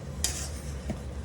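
Rava (semolina) being roasted and stirred in a pan, with a spoon scraping through the dry grains in a couple of short strokes against a soft frying hiss.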